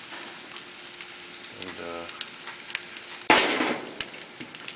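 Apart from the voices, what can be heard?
pork chops searing on a hot Himalayan salt block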